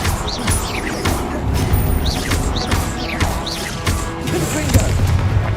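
Repeated spell casts in Hogwarts Legacy combat, with a series of sharp whooshing bursts and crackling hits spaced about a second apart over constant game noise, while a player shouts spell names.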